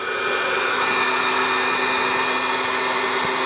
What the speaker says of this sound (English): And then get your heat gun out.